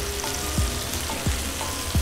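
Nivtya fish frying in a pan: a close, steady crackling sizzle with a few low knocks, brief and without talk.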